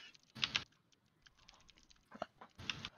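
Quiet bursts of computer keyboard typing, two short clusters of clicks separated by a near-silent gap with a single faint tap, heard close but soft during a tabletop roleplaying game session.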